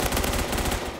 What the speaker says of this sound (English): Tom, you're plaguing my life with incidental shooting